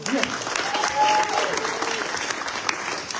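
A crowd at a Comorian community political gathering applauds steadily, with a brief raised voice or cheer in the middle of the clapping.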